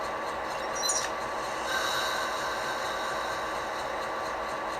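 A brief squeal and short burst of hissing air as the brakes release on an Athearn Genesis MP15AC model locomotive with Tsunami 2 DCC sound, over a steady close background hiss.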